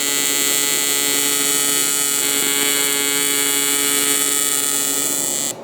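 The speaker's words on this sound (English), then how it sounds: "I'm gonna go ahead and re-tack that tack that broke, and then I'm gonna throw tacks about every 2 to 3 inches all the way around" Steady electric buzz of a TIG welder laying tack welds around a broken seam on a snowmobile tilting trailer, a continuous close hum with faint crackle that holds evenly before cutting off near the end.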